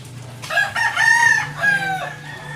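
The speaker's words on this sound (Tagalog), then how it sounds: "Ngingay ng manok" A neighbor's rooster crows loudly and close by in a single long drawn-out call, with chickens clucking faintly underneath.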